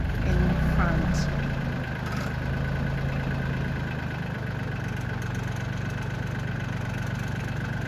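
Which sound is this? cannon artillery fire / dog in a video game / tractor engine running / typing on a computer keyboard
tractor engine running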